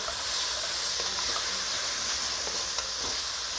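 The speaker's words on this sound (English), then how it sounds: "Want to toast these herbs." Bay leaves, rosemary sprigs and thyme toasting in a hot pot give off a steady, loud broadband sizzle and hiss that holds through the whole stretch, close up and without talk.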